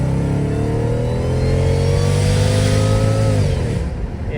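A modified Mercedes E55 AMG engine pulls hard from a 40 mph roll on the street. Its loud, close roar climbs steadily in pitch, then dips briefly near the end as if shifting gear.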